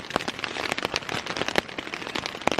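Rain patters on a tent in the Australian bush, dense irregular taps and sharper close drops spread steadily across the clip with no speech.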